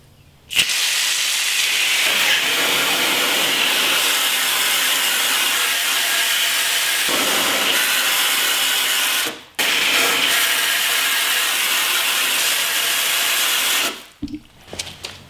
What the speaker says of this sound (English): I'm curious if a power washer is going to be able to peel all of this back.